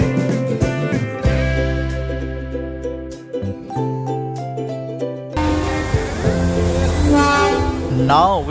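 The Matheran toy train at Aman Lodge station, a small hill-station railway, sounds repeated horn toots and rumbling rail noise that swell and shift, loud and close throughout.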